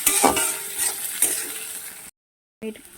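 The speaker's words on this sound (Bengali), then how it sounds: "ভালো করে নাড়তে হবে" Nigella seeds stirred in a hot pan for a hilsa-in-taro-leaf dish give a close, short sizzle with scraping strokes, broken by a brief silence before the sound resumes.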